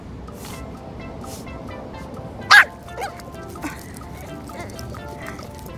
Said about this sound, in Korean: 근데 저렇게 낑낑대면서 파는 거 처음 봐.